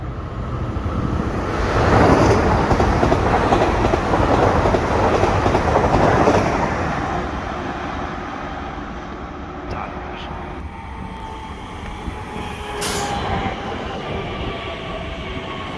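An RER commuter train passes through Houilles-Carrières-sur-Seine station, a loud rushing rumble that swells and then fades into a steady rolling hum with faint clatter, heard nearby, with people talking during it.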